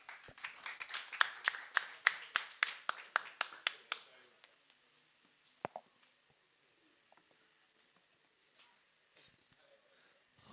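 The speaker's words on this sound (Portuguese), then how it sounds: "senhoras e senhores, com vossos aplausos, avô Rocha." A small audience claps rhythmically on a Portuguese-language talk show, the individual claps sharp and close together for about four seconds. It then thins to a few scattered taps and near silence.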